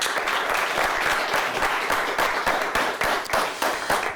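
A studio audience applauds the winning Manistee team after a Big Rapids vs. Manistee quiz match, a steady, dense wash of clapping that continues throughout without talk.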